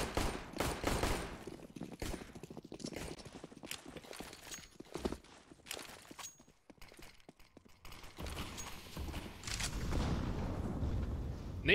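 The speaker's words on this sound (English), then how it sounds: "Nades are exchanged." Grenades going off during a Counter-Strike match on the Nuke map, a dense run of sharp pops and bursts mixed with clattering game noise, loud and busy from start to finish with a brief lull near the middle.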